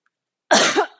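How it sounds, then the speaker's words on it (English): A single short, dry cough sounds close by in an otherwise quiet room during a slow low-lunge yoga session. "I'm coughing the whole way through this."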